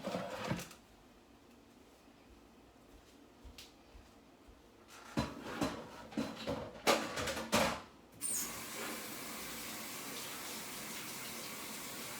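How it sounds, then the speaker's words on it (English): Sink tap running while hands are rinsed in a kitchen during potato salad prep, a soft splash at first, then louder gushing and clattering splashes as the water flows steadily, close by with no talk. "let me get this in the sink, rinse my hands"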